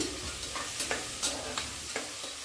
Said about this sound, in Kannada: ಅರ್ಧ ಕಪ್ಪಷ್ಟು ಬಟಾಣಿನ ಸೇರಿಸ್ಕೊಂಡು ಇದನ್ನು ಕೂಡ ಹಾಗೆ ಫ್ರೈ ಮಾಡ್ಕೋತಾ ಇದ್ದೀನಿ.